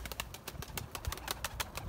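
Pigeons coo softly and flutter about, with faint rhythmic calls and light wing flaps at a distance. No voices are heard.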